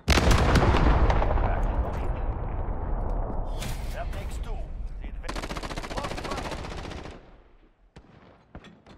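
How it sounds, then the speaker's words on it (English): Cruise missile strike in a Call of Duty–style shooter: a loud sustained barrage of explosions and rapid gunfire rumbling for several seconds, with brief bursts of voice chatter mixed in, then tapering to scattered distant pops. "Cruise missile ready to launch."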